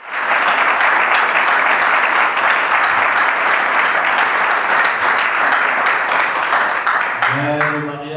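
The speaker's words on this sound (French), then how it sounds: "inviter l'assistance ici présente de les applaudir fortement" Wedding guests at a civil ceremony in Dolisie applaud the couple loudly and continuously, a thick wall of clapping that fades out at the end as a voice begins speaking.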